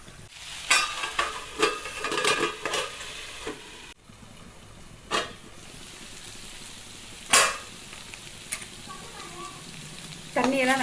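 Chicken roast cooking in a pan on a stove at full flame, a soft sizzle underneath with several bursts of stirring and scraping near the start and a few isolated clatters later.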